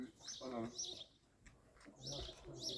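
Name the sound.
male Arab eke pigeon cooing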